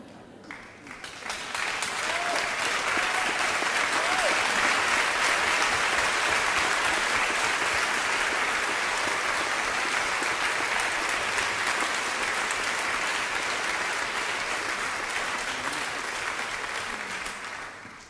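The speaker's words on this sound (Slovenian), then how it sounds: "hvala vam za aplavz" Sustained audience applause fills a theatre at a drama festival, dense and steady from start to finish, rising quickly at the beginning and easing slightly near the end.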